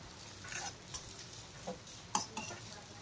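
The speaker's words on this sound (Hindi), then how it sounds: "2 मिनिट छान असे पोहे आपण परतून घेऊया।" Quiet stirring of poha in a pan on the stove for a Maharashtrian recipe, with soft scrapes and light clinks of a spoon against the metal at irregular intervals over a faint background hiss.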